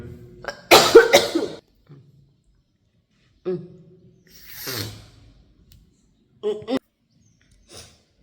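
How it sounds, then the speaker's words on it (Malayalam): Several harsh coughs close to the microphone in separate bursts, with quiet pauses between them and a softer cough near the end. "ഞാനൊന്ന് ചുമയ്ക്കാൻ വേണ്ടി ബ്രേക്ക് എടുത്താണ് കേട്ടോ"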